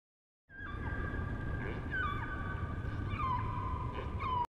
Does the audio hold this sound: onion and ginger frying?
no